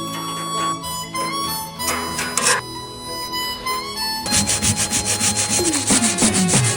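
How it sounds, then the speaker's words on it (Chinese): Abrasive sanding grinds over the weld seams of a homemade metal wood-fired water-heating stove, with harsh rasping strokes that stop and restart, then a louder, continuous grinding pass with scraping. "咱们把焊口处打磨一下"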